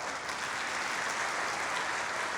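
An audience of thousands claps loudly and steadily, a dense sustained burst of applause with no talk over it.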